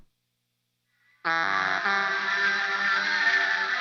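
After a brief silence, a processed guitar chord played through a Dark World reverb pedal rings out loudly and sustains, smeared with a wide, lingering reverb wash, no voices.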